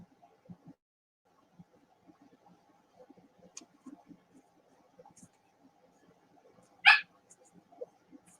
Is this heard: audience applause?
no